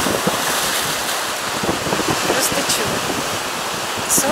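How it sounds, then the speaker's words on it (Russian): Sea waves breaking along the Bulgarian coast near a lighthouse and a quiet beach, a steady loud wash of surf mixed with heavy wind noise on the microphone. "Вот такие волны."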